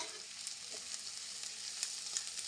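Chopped onions fry in a pan for a bhindi dish, giving a soft, steady sizzle with light crackles and occasional stirring scrapes, close and fairly quiet, with no voices.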